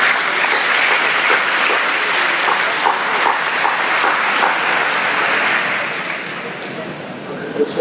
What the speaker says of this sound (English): can I just get a round of applause for everybody here?